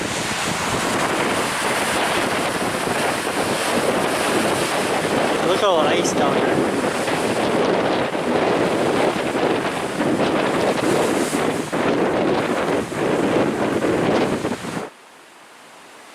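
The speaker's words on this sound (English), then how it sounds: "Of course it's very windy today." Strong winter wind roars steadily into the microphone at Pictured Rocks, Michigan, buffeting and gusting for a long stretch, with a person briefly speaking underneath before it cuts off.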